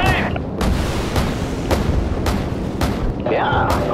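Artillery cannon fire in the Call of Duty Modern Warfare video game, a series of heavy booming shots spaced about a second apart, loud and close under radio chatter and speech.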